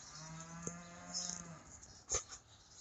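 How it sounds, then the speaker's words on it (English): A single low cow moo, distant and drawn out, over a steady hum in a feed barn, followed by a brief knock. "looks like most of the cows are in the feed barn."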